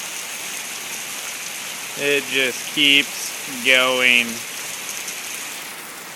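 Hail pelting a lake surface and a new wake setter boat during a hailstorm, a steady dense patter throughout, with a voice speaking over it.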